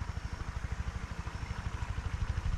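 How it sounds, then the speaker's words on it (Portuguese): A tractor engine chugs in a rapid, even low pulse somewhere near a fishing spot, fairly faint and steady throughout with no talking over it. "Trator tá vindo."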